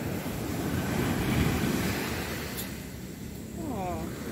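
Open Indian Ocean surf at a beach on Lombok rolls in as a steady broad wash with wind buffeting the microphone, fairly loud and continuous.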